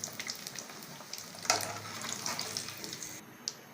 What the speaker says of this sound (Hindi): ऑयल में थोड़ा फ्राई करेंगे।